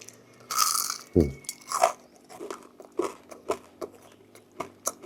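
Loud, crisp crunching bites into crispy deep-fried mackerel, then a run of steady chewing crunches close to the mic, with no talking.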